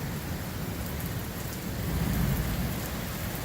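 Steady rain pours down during a thunderstorm outside a house, a dense constant hiss with a low thunder rumble swelling briefly near the middle before easing back.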